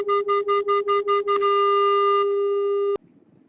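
Two close pure test tones near 400 hertz sound together and pulse in loudness about four times per second, a steady clear beating that then settles into a continuous tone before cutting off.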